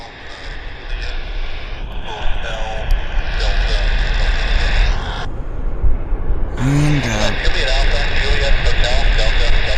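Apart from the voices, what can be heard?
Convair 580 aircraft idling with Allison turboprop engines running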